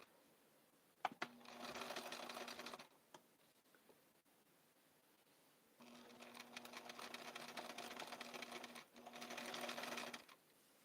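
A Bernina sewing machine stitches blue satin coattails in three whirring bursts of rapid mechanical stitching, close and steady, separated by quiet pauses with a few small clicks.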